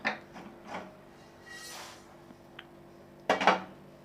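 Roasted lentil powder mix poured out of a pan, soft scattered scraping and tapping with a brief hiss, then a louder metallic clatter near the end, quiet overall.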